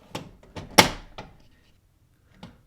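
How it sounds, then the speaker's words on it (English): The small plastic access door on an HP Deskjet 2742 inkjet printer is pushed shut, giving a few light clicks and one sharper thunk, then a faint final tap, close and alone. "you just have to close this small door here"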